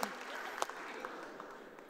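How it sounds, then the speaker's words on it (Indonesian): Congregation applause inside a church during a sermon, a steady wash of many hands clapping at moderate distance with a few sharper claps standing out, lasting throughout. "Ini baru orang tekun tepuk tangan."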